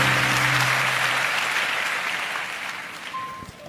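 A church congregation gives enthusiastic applause at an Indonesian Christmas service, a dense, even wash of clapping that fades gradually over a few seconds.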